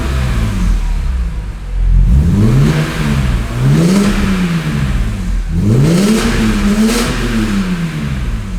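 A BMW E46 M3's engine is revved in short bursts, climbing and falling roughly every two seconds over a steady idle, loud and close with no talking.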